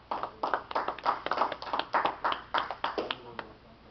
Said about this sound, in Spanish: Dele fuertes palmas al Señor Jesucristo